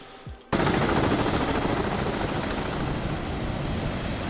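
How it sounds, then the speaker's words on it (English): A helicopter in the submarine video game Cold Waters roars in abruptly after a brief quiet moment, a loud, dense, continuous rotor and engine wash that holds steady to the end. "That helicopter's sitting there."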